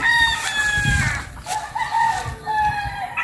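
A rooster crows at a gamefowl farm in Quezon, a long wavering call over soft clucking and farmyard background, fairly close, with faint voices behind.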